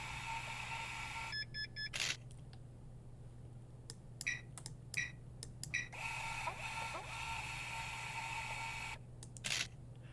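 A Roblox taximeter prints a receipt: a run of quick electronic beeps, then a stretch of rapid clicking and a steady printer-like whir. It ends with another short burst of beeps over a low constant hum.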